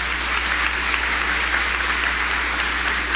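A church congregation at Mass applauds together, an even, continuous wash of clapping heard over a low steady hum.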